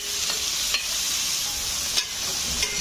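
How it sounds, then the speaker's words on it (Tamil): Sliced onions and green chillies with cardamom sauté in hot oil in a home kitchen, a steady close sizzle broken by a few scraping stirs of the spoon, with no voices. "அதுலேயே வெங்காயம், பச்சை மிளகா இந்த மாதிரி கட் பண்ணிட்டு போட்டாச்சு. இப்போ இதை வதக்கிக்கிறேன்."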